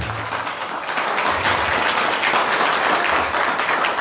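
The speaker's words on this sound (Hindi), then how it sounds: "चले तालियों से धन्यवाद दें।" Sustained audience applause at a Hindu temple music competition in Savusavu, a steady dense wash of many hands clapping that holds evenly throughout.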